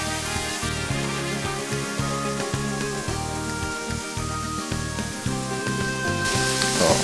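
Onion and garlic sizzle steadily in oil in a wide paella pan, a loud, close, continuous crackling hiss that runs throughout with slight pulsing.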